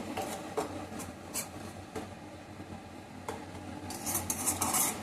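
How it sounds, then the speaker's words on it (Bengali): Papaya sautéed in a pan gives soft scraping stirs and occasional metallic clinks of spoon against the pan, faint and close, with a few sharper taps near the end. "এটা একটুখানি 1 সেকেন্ডের মতো কষে নেব"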